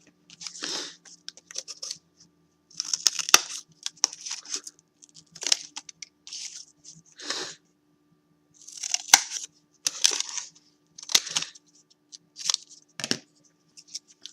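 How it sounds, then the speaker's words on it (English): Scissors cutting small pieces of paper for a sculpture kit, repeated bursts of close, crisp snipping with short pauses between cuts. "cut them both out"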